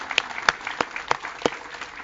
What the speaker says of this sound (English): maybe just another round of applause for everything that Visions does to create community